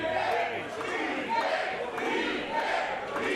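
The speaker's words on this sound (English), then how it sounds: "You hear the Inspire crowd cheering on the bounty hunter." An Inspire wrestling crowd cheers and shouts in steady waves of noise, with a commentator speaking over the moderately loud, far-off roar.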